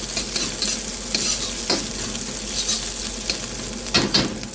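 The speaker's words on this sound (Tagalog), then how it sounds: "naka-fry na yung garlic ko" Garlic sizzles and fries steadily in a hot pan, with brief stirring scrapes over a continuous loud crackle and no talking.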